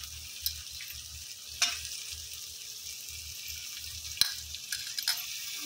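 Drumstick pods dropped into a hot pan of spiced oil for sambhar, a soft steady sizzle with a couple of sharp clinks and stirring knocks.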